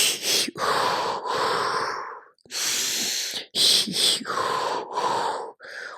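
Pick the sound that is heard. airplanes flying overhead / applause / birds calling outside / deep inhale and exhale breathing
deep inhale and exhale breathing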